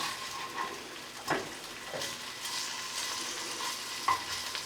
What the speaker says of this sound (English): So I went ahead and sauteed this.